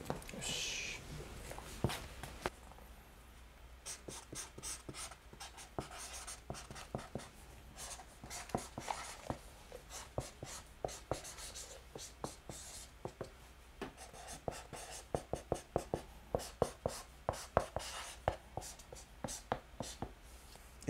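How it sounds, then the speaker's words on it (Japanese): A pen scratches across a signing board as a player of Kataller Toyama writes a message and autograph, with quick uneven strokes and taps throughout, close and faint, under occasional soft voices. "色紙に 書いていただきたいなと思います"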